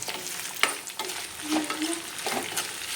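Ingredients for an egg curry stirred in hot oil in a pan, a steady sizzle with scraping spoon strokes and a sharp clink, close and alone.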